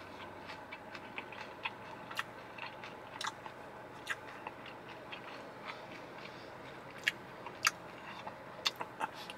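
Someone bites and chews a toasted pineapple and corn pie, giving soft intermittent crunchy clicks and bites that are close and quiet, spread irregularly over a faint steady background.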